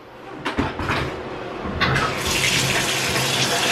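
Clothes washed by hand in a bucket of water, with splashing and sloshing that builds into a steady rush of running water, close and fairly loud.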